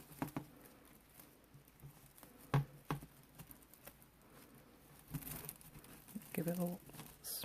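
Paper being folded and scrunched into a flower petal, quiet close crinkling with short crackles and soft taps in irregular bursts, a voice talking over parts of it.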